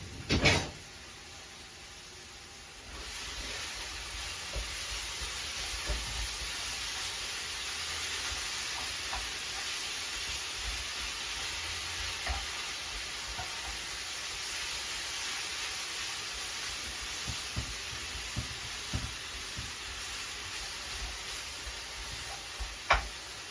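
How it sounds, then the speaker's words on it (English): Mince for a chilli fries in a pan, giving a long, steady low sizzle with scattered soft scrapes and knocks as it is turned over, fairly quiet throughout. "do the mince, turn it round, turn it over so it cooks thoroughly"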